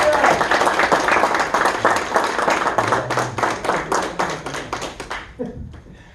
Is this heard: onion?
no